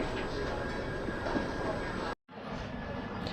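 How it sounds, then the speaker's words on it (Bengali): Low rumbling roar of the Howrah–Puri Vande Bharat Express departing Jajpur Keonjhar Road station, steady and loud, briefly cut to silence before the rolling noise resumes. "ট্রেন জাজপুর কেওনঝাড় রোড ছেড়ে দিল পরবর্তী স্টেশনের উদ্দেশ্যে।"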